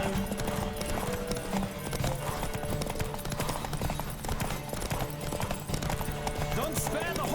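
Horse hooves galloping in The Witcher 3 video game, a steady rapid clip-clop running throughout, mixed under background music with speech from game characters over it.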